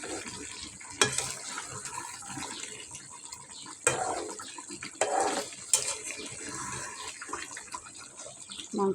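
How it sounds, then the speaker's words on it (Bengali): Meat stirred and fried in a pan: a steady, moderate sizzle runs throughout, broken by sharp spatula scrapes and clinks at irregular intervals, with no voices. "মাংসটা একটু ভাজা ভাজা করে নেব।"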